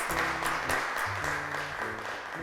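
Studio audience applause on a TV talk show welcomes a guest to the microphone, steady clapping over a backing of low sustained music tones.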